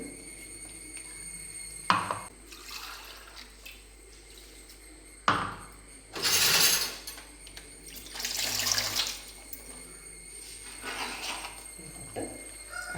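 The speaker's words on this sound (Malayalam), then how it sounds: "ആവശ്യത്തിനുള്ള വെള്ളം ഒഴിച്ചു കൊടുത്ത് വെള്ളം കൂടാണ്ട് നോക്കുക" Water is poured into roasted rice flour in a kitchen, coming in a few short splashing bursts between quieter moments with some clatter, fairly close.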